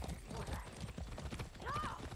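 Rhythmic horse hooves pounding at a gallop in Far Cry 6, steady clip-clop beats over a busy game soundscape, with a brief whinny-like tone near the end.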